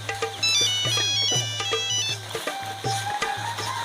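A mobile phone plays a bright melodic ringtone close by, its repeating tune looping steadily for an incoming call with no talk over it.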